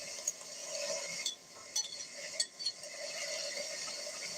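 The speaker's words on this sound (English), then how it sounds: "I'm going to throw in some vegetables, and well, a vegetable and a fungus, some mushrooms and onions" Mushrooms and onions land in a hot cooking pan with a steady sizzle, broken by a few sharp clinks and scrapes of utensils against the pan, close and fairly quiet.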